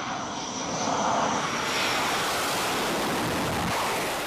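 Navy jet aircraft flying field carrier landing practice on land, simulating an aircraft carrier landing: a loud, sustained engine roar and broadband jet rush that builds slightly and holds steady throughout, with no talking.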